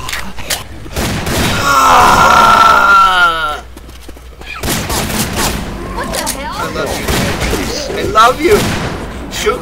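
Gunshots in Left 4 Dead on the custom map Escape From Toronto, loud rapid bursts of gunfire with chaotic game noise, and people talking over much of it.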